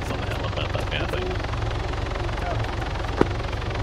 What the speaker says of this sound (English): Helicopter, do you want to land back on the pad?